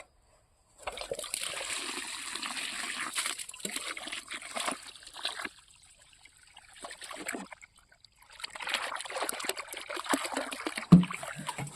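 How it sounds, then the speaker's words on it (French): About 20 litres of water is poured into a planting hole in a vegetable garden, splashing and trickling steadily in two main bursts with a short lull between them, close by and with no talking. "Maintenant, on va mettre de l'eau. Donc là, je vais mettre 20 litres d'eau."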